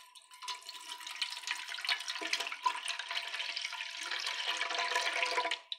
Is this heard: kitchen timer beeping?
no